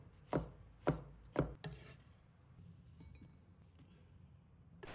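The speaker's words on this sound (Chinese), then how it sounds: "切成大小均匀的小块，切口整齐平滑" Fresh shiitake mushrooms cut into small, even pieces on a cutting board: three crisp, evenly spaced knife chops near the start, then a softer scrape and a few faint taps, close and otherwise quiet.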